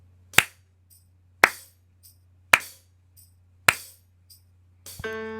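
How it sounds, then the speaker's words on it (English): Five sharp, evenly spaced claps land about a second apart, a steady quarter-note pulse for a virtual chorus, each crisp and isolated over a low steady hum, ending with a sustained tone. "let's clap quarter notes together to synchronize our tracks"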